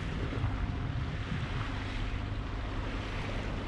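A sailboat motoring under engine at about 4.7 to 4.8 knots across a flat, calm sea bound for Gibraltar, giving a steady, dense wash of water and wind noise that holds constant throughout with no voices.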